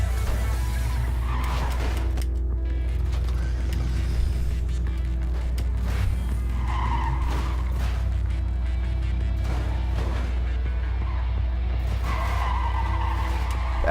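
Trucks skid and crash in the video game Clustertruck, a constant loud engine drone with repeated tire screeches and scraping bursts, no talking.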